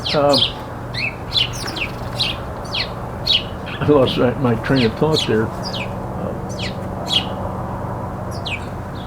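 Several birds chirp and chatter in quick, overlapping bursts nearby, squabbling noisily while someone talks briefly in the middle.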